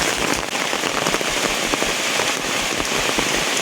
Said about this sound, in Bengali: কত খারাপ এই বৃষ্টি হচ্ছে